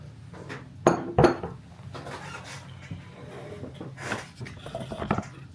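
Pans and utensils clink and clatter while eggs are cooked for breakfast in a home kitchen, with a few sharp metallic knocks early on and softer scraping and rattling later, close and moderately loud.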